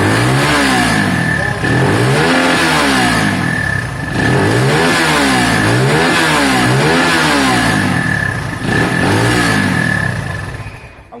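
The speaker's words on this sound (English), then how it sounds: "let's check this throttle response" A Keeway motorcycle, its carburetor freshly cleaned, revs repeatedly at close range, the engine climbing and falling in several regular throttle blips over a steady running note before cutting off at the end.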